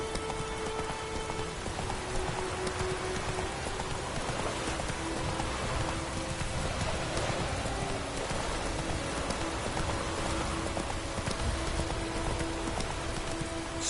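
Steady heavy rain patters on the ground while the horse Roach's hooves clip-clop at a gallop in The Witcher 3, a continuous wet, even rush with rhythmic hoofbeats beneath.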